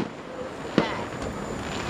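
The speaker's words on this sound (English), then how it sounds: "Let's shut this off and pay attention to the fireworks." A single firework bursts with a sharp crack over Lakeland, Florida in July, then fades into a steady rush of outdoor wind noise.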